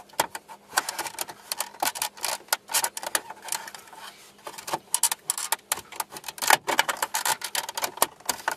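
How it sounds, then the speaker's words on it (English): A VW Jetta CD radio is pried out along its edges, giving irregular sharp plastic clicks, snaps and scrapes in quick clusters, close by and with no talk. "Once you get that up, you just pry along the edges."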